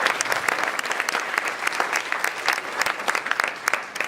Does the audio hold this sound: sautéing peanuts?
no